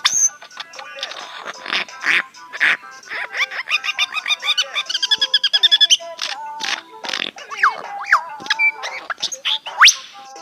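A lyrebird in the bush calling and mimicking, with a rapid string of clicks, rattles, whistles and sharp chirps, some in fast even bursts, loud and close with varied mechanical-sounding notes.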